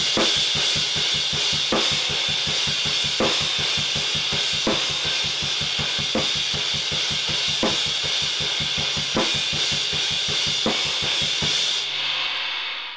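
A drum kit plays a slow half-time groove in a rock song, with a steady pulsing kick and a backbeat under cymbal wash and a full band, stopping cleanly near the end.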